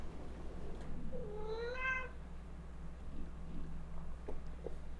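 Hobbs the cat lets out a single drawn-out meow with a rising then falling pitch, fairly close by, over a steady low background hum and with no one speaking.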